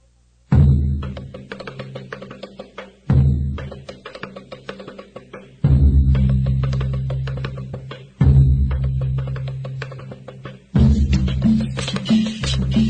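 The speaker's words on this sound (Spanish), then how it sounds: "Quiero ponerle tres temitas que me pidió de cumbia, porque le encanta a mi compadrito." Cumbia song playing over the radio, full band with heavy bass and percussion, loud and continuous, broken into several sections by abrupt cuts and restarts, with no talking over it.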